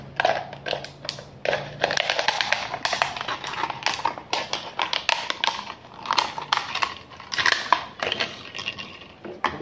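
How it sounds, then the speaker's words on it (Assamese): Scissors cut around a half-litre plastic water bottle with repeated crisp crunching snips, close and loud in an irregular rhythm, with no voices. "পানী বটলটো এনেকৈ ৰাউণ্ডকৈ কাটি ল'ব লাগিব"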